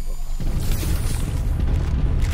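A bombing-zone explosion in the battle royale game Farlight 84 bursts in with a loud, deep boom after a brief quiet moment, then rumbles on as a dense, sustained roar to the end.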